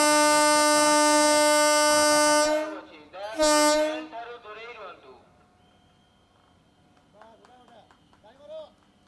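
A pilgrimage train for senior citizens departs Balasore station, sounding two loud, sustained horn blasts up close, the second shorter, followed by quieter station noise and distant voices.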